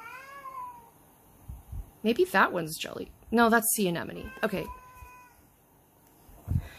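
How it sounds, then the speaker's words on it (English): A house cat meows repeatedly indoors, with drawn-out, wavering cries and a few yowling calls, close and fairly loud, mixed in with a person talking during a toy unboxing. "Okay, sorry about the cat."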